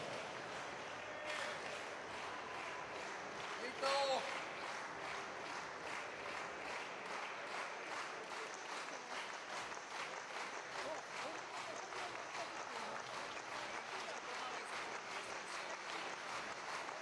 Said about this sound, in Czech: velký potlesk pro Katrin Břiškovskou.